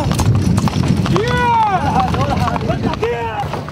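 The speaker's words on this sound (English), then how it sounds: "a donkey cart comes rushing by" A donkey cart rushes past on a street, its hooves clip-clopping briefly under crowd noise, excited shouting and wind buffeting the microphone.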